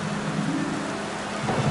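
Steady rain with a low rolling rumble of thunder in an animated scene, a continuous dense hiss at an even level with no voices.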